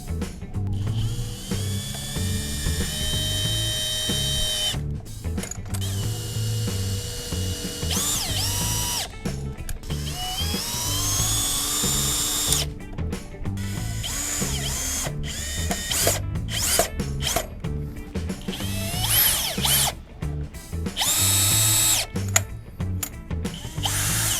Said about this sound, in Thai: เดี๋ยวเรามายึดน็อตกันเลยนะครับ